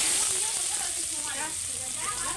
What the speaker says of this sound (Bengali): এবার আমি ওই তেলেতেই পেঁয়াজ দিয়ে দেবো।